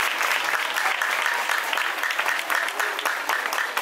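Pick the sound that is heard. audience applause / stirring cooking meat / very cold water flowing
audience applause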